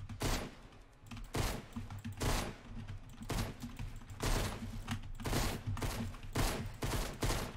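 Gunfire in the video game Fortnite comes in repeated rapid bursts aimed at the player, fairly faint and evenly spaced, with sharp clicky transients throughout.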